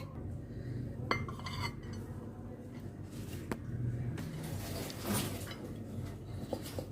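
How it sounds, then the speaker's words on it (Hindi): Mutton pulao is served from the pot into a dish, with soft scattered clinks of a spoon against metal and crockery over a quiet background, with no talk. "तो निकालती हूँ मैं इसको डिश में"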